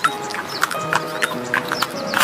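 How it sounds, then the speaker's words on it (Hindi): Horse hooves clip-clopping at a fast, quickening pace as a king rides through a forest in a cartoon story, with regular sharp hoofbeats over a steady background and an occasional faint whinny. "राजा ने अपने घोड़े की रफ्तार और बढ़ा ली ताकि वह शेर का शिकार कर सके।"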